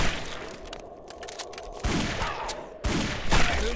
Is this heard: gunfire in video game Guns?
yes